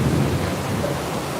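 Rain and thunder heard from aboard a streetcar during a downpour, a steady broad wash of rainfall with a deep rolling rumble underneath, loud and continuous with no voices.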